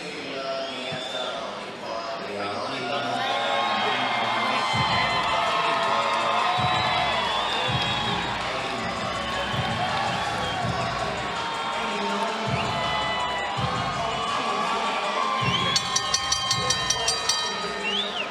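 A boxing crowd at a civic auditorium cheers after a four-round welterweight bout, a sustained roar of voices and whistles with clapping, loud and continuous, with an announcer talking over parts of it.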